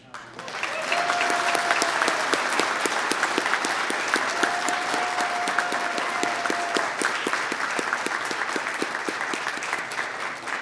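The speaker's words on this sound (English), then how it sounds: "Can we please give a round of applause for Captain Howard?" An audience at a fire department awards ceremony gives a long, steady round of applause, dense and even throughout with a faint sustained tone rising briefly above it.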